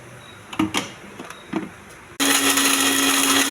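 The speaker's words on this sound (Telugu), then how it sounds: "ఇవి ఫస్ట్ మిక్సీ వేయాలండి." A kitchen mixer grinder blends coconut, tomato and salt for chutney, starting after a few knocks and clatters and then running loud and steady with a high whine for over a second before cutting off.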